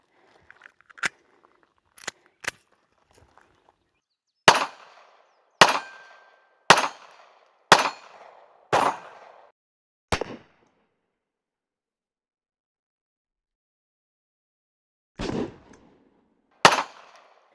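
Kel-Tec P3AT pocket pistol firing a string of sharp, loud gunshots outdoors, two or three spaced shots then a rapid run of about six, followed by a pause and two more reports near the end.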